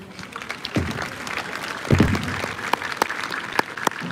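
A secondary school audience claps, a burst of applause with scattered individual claps rising and swelling, then continuing unevenly.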